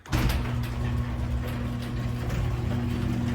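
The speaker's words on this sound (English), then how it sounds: "Let's open up the garage door." A garage door rolls open with a steady mechanical drone and faint rattling that starts abruptly and runs continuously at close range, no voices over it.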